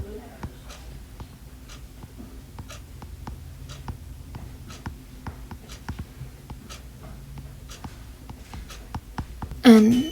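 A pen or pencil scratches and taps lightly across paper while drawing a small unit circle, a steady run of soft strokes and ticks over quiet room tone, ending with a brief louder scrape.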